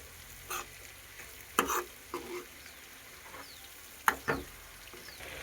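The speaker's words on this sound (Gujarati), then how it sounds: "અને હવે આપણે મિક્સ કરી લેવું આ રીતનું" Green corn chevdo being stirred and mixed with coriander in a pan, giving a few scattered scraping strokes and soft clinks over a faint background hiss, with no talking.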